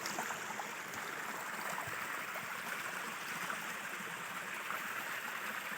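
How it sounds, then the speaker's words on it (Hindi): Water rushing fast from a spring in Kashmir, a steady full-bodied splashing flow heard close and continuous throughout. "पानी आ रहा बहुत स्पीड ही पानी आ रहा।"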